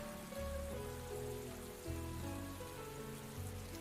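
Steady rain falling outdoors in the video game Atelier Ryza 2 makes a constant soft hiss, with gentle melodic game music running underneath.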